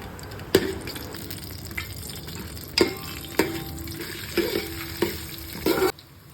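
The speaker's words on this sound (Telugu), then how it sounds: "ఇప్పుడు కొంచెం వేడయ్యాక ఈ మసాలా దినుసులు అన్నీ వేసేయాలి" Whole spices drop into hot oil and ghee and sizzle softly, with about seven sharp scraping and clinking stirs of a spoon against the pan before an abrupt stop.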